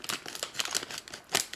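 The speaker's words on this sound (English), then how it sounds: "So let me slice the bag open." Plastic Lego parts bag for an Imperial TIE Fighter set being sliced open, a quick burst of close crinkling and tearing with a sharper rip near the end.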